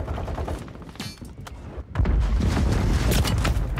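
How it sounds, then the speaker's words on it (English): Mortar strikes in Call of Duty MW3 Warzone: muffled gunfire and thuds, then a heavy booming explosion that sets off a sustained rumbling barrage of blasts, loud and close. "Put a mortar on us."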